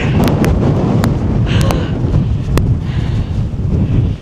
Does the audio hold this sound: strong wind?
yes